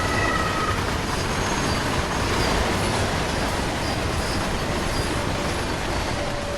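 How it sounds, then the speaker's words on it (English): Freight train hauled by a BR-155 electric locomotive in Train Sim World, a steady broadband rumble of rolling wagons and motor noise holding constant throughout with no talk. "there's an incoming freight train pulled by a BR-155 electric locomotive"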